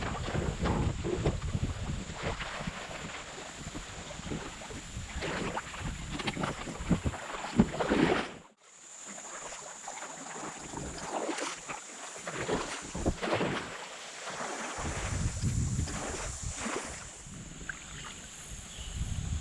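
A solo kayak moving down Russell Creek in Kentucky, with water swishes and rhythmic paddle strokes under gusts of wind buffeting the microphone, broken by a brief near-silent gap midway.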